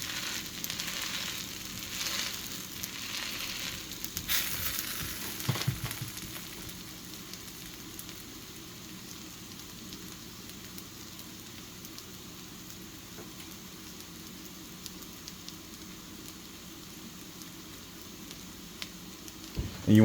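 Hash browns sauté in a pan with a soft, continuous sizzle and crackle, fairly quiet and close, with a few scraping clatters early and near the end.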